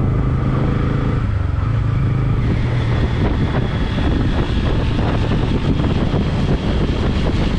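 A Bajaj Pulsar N160 motorcycle with a five-speed gearbox, recorded while riding on a road, produces a loud, steady engine drone close up, mixed with continuous wind rush.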